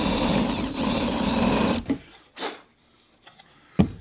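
A power drill whirs steadily for nearly two seconds while cutting a countersink into wooden lumber, then stops, followed by a few sharp knocks and scrapes up close.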